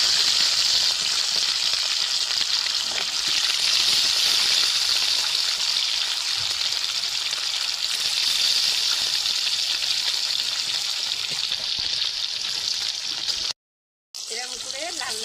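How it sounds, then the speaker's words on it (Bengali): Rohu fish frying in hot oil in a home kitchen, a loud, steady crackling sizzle that runs throughout and cuts out briefly near the end. "এরকম করে লাল লাল করে ভেজে নেবো আমি মাছটাকে ভালো করে।"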